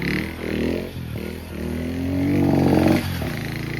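An HMT 2522 tractor engine idling and firing up close, a rough low rumble that rises in pitch and intensity before dropping back to a steady idle.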